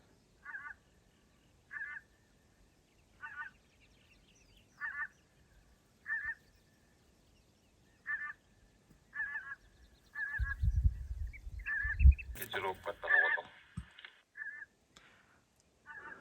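Repeated honks of geese flying overhead in spring, short bursts at a steady pace, clear but somewhat distant; near the end a brief rumble of wind or handling noise rises beneath them.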